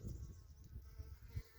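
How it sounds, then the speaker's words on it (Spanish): Bees buzzing near their nests in dry countryside, a faint continuous hum of insect wings close by with low rumbling wind underneath. "Estos son nidos de abejas. No voy a acercar porque me pueden picar."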